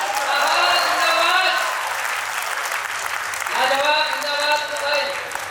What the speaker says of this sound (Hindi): आप लोगों को तालियां बजानी ही होगी